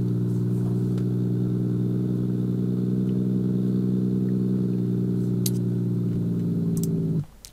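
A BMW M140i with an aftermarket exhaust on a cold start, holding a loud, steady, droning idle at close range for several seconds before cutting off abruptly, with no talking.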